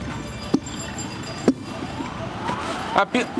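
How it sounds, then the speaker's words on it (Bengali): An ambulance siren wails through heavy Kolkata traffic noise as a convoy passes Sakher Bazar metro station, with a few sharp knocks and a voice talking over it. "নিয়ে যাওয়া হচ্ছে সুজয়কৃষ্ণ ভদ্রকে, সেই অ্যাম্বুলেন্স এই মুহূর্তে শখের বাজার যে মেট্রো স্টেশন, সেই শখের বাজার মেট্রো স্টেশন পেরোচ্ছে"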